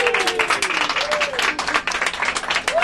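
An audience aboard a Merseyrail train at a comedy festival event applauds, with fast dense clapping and scattered cheers and whoops rising over it, close and lively.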